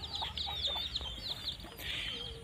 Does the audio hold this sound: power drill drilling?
no